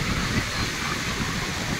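Sea waves washing in on Colva beach in Goa, a steady close rush of broken surf filling the short moment with no clear pause.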